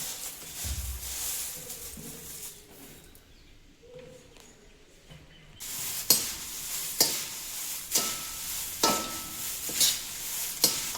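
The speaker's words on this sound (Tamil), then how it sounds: "அதுக்காக நம்ம கொஞ்சம் அடுப்பில் போட்டு லைட்டாக நம்ம வந்து இதை வந்து வதக்கி எடுத்துக்கலாம்" Curry leaves being lightly sautéed in a pan on the stove for black urad dal idli podi: a faint start and a quiet pause, then repeated loud scraping stirs with a soft sizzle, each stroke distinct and close.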